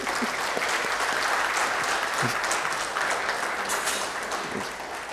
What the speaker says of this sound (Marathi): भगीरथ कुलकर्णी सरांसाठी आपण जोरात टाळ्या वाजवायला पाहिजे